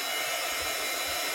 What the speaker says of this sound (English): And then I use my embossing heat tool.